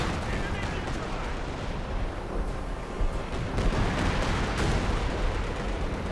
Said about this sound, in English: Katyusha Rocket Barrage hitting the squads